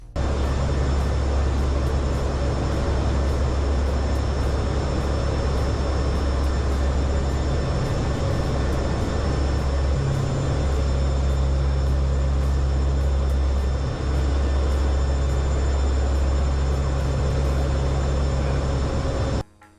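An aircraft passes very low while landing, its loud, steady engine roar and rumble filling the scene continuously before cutting off abruptly.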